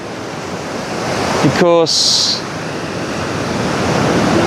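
Steady broadband wash of Coral Sea surf under grey skies after recent rain, continuous and fairly loud with wind noise, briefly interrupted by a short spoken word midway.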